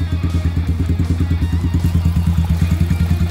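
A Yamaha YBR125 fitted with a 150cc bore kit idles close up with a loud, steady thumping beat and a slightly tappy mechanical clatter, running alone without talk.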